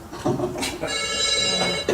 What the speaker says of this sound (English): Is that my phone?